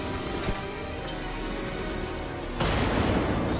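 Bombs explode in Wolfenstein: The Old Blood, a steady roar of blasts with a sharp burst near the start and a louder, denser explosion toward the end, loud and close with no talking.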